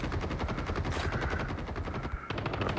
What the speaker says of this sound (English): Oh, I hear people shooting.